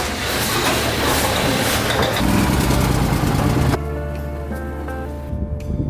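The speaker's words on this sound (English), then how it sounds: "I'm going to take a ride out there in the Argo now." An Argo all-terrain vehicle's engine drives along outdoors, a loud, steady close-up drone with rumbling low tones that eases slightly toward the end, with no talk over it.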